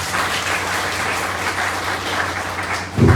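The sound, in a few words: audience applause at a seminar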